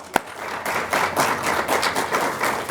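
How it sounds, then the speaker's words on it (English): A scholarship event audience bursts into applause after a single sharp tap, the clapping swelling quickly into a steady, moderately loud patter of many hands at mid distance. "we can give them a round of applause"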